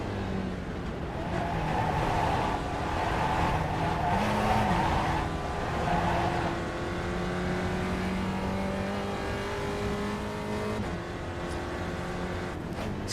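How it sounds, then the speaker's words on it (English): A race car engine in a sim racing video game drones steadily with a reedy, wavering tone, shifting pitch through gear changes and accelerations, close and continuous for the whole stretch with no talk. "This car sounds like a wonky bagpipe."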